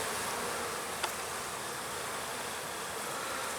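Honeybees buzz in a soft, continuous hum at the hive entrance on a hot November day, a steady drone with no talking.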